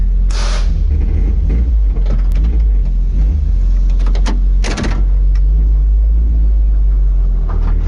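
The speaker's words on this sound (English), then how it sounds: "So this is arming the nitrous. That's basically purging it." A Nissan S13 nitrous system is armed and purged, giving two short, sharp hissing blasts over the car's steady low engine rumble, with a few clicks and knocks in between.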